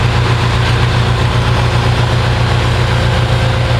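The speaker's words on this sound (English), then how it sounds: "here's a big thing driving, and they're putting it into a chipper machine" A wood chipper and a large vehicle work through felled trees, giving a loud, steady low engine drone with a constant idling hum and no breaks, close and continuous throughout.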